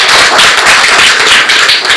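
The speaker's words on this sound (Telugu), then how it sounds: "ఒకసారి గట్టిగా క్లాప్స్ కొట్టండి" An audience at a public meeting in Vinjaram claps loudly, a dense, sustained wash of many hands heard up close without any voices.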